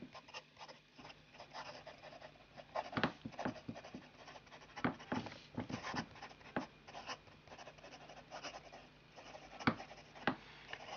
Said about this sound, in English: Start with a bit of fine writing.